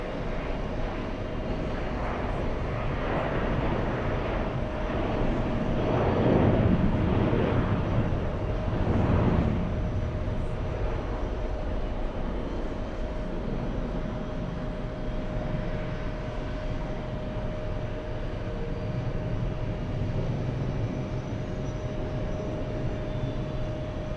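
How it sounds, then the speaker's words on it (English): Jet airliner arriving on a flight from Bucharest, Romania, a steady broad engine roar with a constant tone running throughout, swelling slightly midway as it passes nearer, continuous and without talk. "Let's get the next arrival. It's the flight from Romania, flying in from Bucharest."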